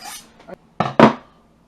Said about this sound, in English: So, cut it into cubes.